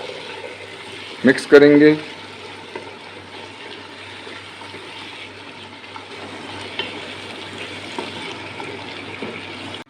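Fresh beans go into a pan of fried masala for an aloo beans sabzi, a brief loud sizzle and splash as they hit the oil, then a steady soft frying hiss under someone talking.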